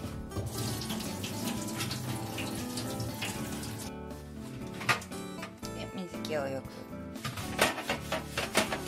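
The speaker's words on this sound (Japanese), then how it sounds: "じゃあフルーツ洗っていきます" A kitchen tap runs steadily while fruit is washed under it, with splashing and shifting water close by, occasional clunks, and voices partly heard over the flow.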